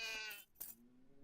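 A goat bleats in a video game, one wavering cry close up followed by a shorter, fainter bleat, heard alone.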